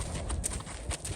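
Kentucky Mountain Horse walking at a flat walk during a riding lesson, hooves clip-clopping in a steady rhythm at close range, with light outdoor background noise.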